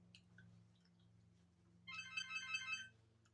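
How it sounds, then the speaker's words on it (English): A phone rings with a short electronic tone burst, heard faintly against a low steady hum in a quiet room, with no voices. "So the phone is ringing"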